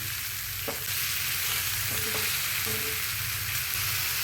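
Chopped beans, curry leaves and prawns frying in a pan, a dense continuous sizzle with a few faint scraping stirs, close and even throughout with no speech.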